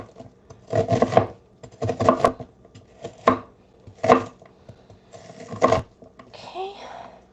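An onion is chopped on a board in a home kitchen, sounding as several bursts of quick, rhythmic knife strokes separated by short pauses, close and distinct, ending with a brief scraping sound.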